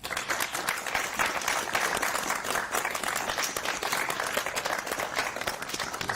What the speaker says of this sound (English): can the group that's assembled just quick give a round of applause for our panelists?